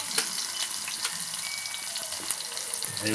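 Onions and chillies frying in oil, a soft crackling sizzle with occasional sharper pops and faint stirring, close by and without speech.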